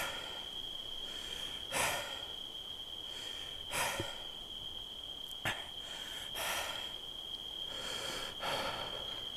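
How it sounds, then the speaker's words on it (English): A game character in Arma 3 breathes heavily after running at night: a series of loud, rhythmic panting breaths about two seconds apart, set against a steady high insect-like drone. "That's my character's heavy breathing, by the way."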